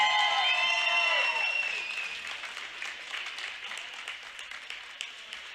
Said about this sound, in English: Congratulations to both teams. Round of applause.